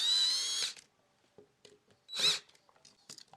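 A power drill tightens a screw on an electrical outlet in two short, loud whirring bursts separated by quiet handling clicks and small rustles.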